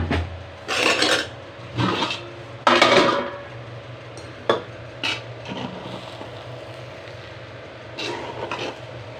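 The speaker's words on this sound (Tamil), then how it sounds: "ஸோ இப்போ திருப்பி ரெண்டாவது நம்ம கிண்டிக்கலாம்." Egg biryani being stirred in a cooking pot: a series of loud, rasping scrapes in separate bursts, with quieter gaps between strokes and no talking.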